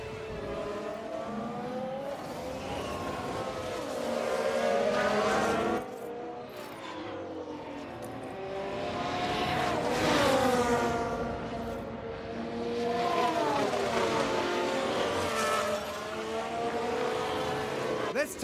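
Red Bull Formula 1 race cars at the Bahrain Grand Prix whine past with rising and falling engine pitch, sounding loud and close at times, while a commentator talks over them.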